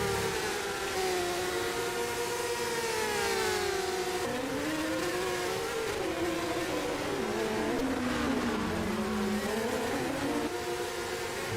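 Formula 3 race cars in rFactor 2 at Autopolis International, two engines screaming close together as they brake and accelerate through corners, pitch rising and falling continuously with no talk over them.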